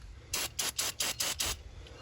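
Brake parts cleaner sprays onto a Yanmar 1500 tractor's thermostart in five quick hissing bursts, evenly spaced and close, with no talking.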